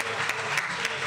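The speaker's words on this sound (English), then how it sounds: "Can we get one more round of applause for that fire presentation by Chairman Omali Yeshitela of the African People's Socialist Party?" Brief burst of audience applause for a fiery presentation by a party chairman at a Black Power rally in St. Pete, a steady dense patter of many hands, close and fairly loud.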